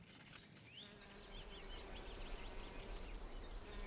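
Wild bees buzz in springtime, a thin high insect drone rising in after a quiet start and holding steady, with faint overlapping whines over soft outdoor background noise.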